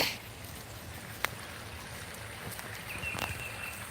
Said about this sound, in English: There's our little babbling brook, hear it?